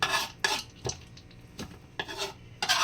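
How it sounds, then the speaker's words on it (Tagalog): A knife scrapes and clinks while peeling a kalabasa squash in a home kitchen, giving several short bright strokes in an uneven rhythm, close and fairly loud. "Balatan ko lang yung kalabasa"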